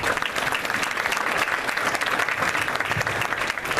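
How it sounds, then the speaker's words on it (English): Audience at a leadership conference applauding, loud dense clapping sustained for a few seconds with sharp individual claps standing out. "the applause might not be deafening"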